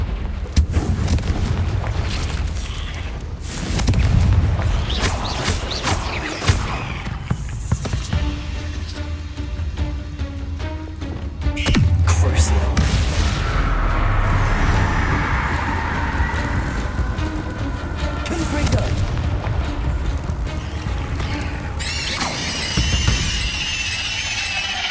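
A Confringo blasting spell from Hogwarts Legacy goes off in a cave, giving a string of loud, booming blasts and crackling bursts over a constant low rumble, with bright impacts scattered through the whole stretch.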